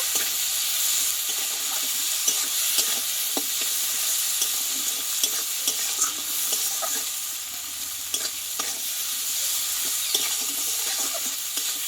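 A Bengali-style spice mixture with salt, for a thor (banana stem) dish, sizzles steadily as it is stir-fried in a pan, with repeated scrapes and clicks of a spatula over the constant frying hiss.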